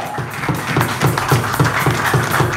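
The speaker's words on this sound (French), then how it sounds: "Applaudissez pour Jésus." A church congregation claps in a quick, regular rhythm, a fairly loud, close burst of applause lasting a couple of seconds with no talk.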